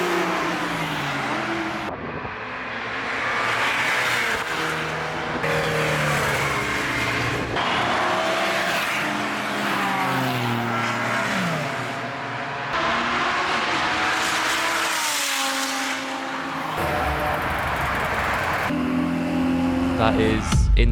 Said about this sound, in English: All cars are out on track and Silverstone is alive with glorious engine noise.